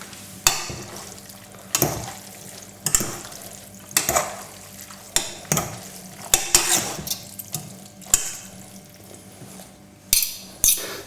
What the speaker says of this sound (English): we just need to give this a good old mix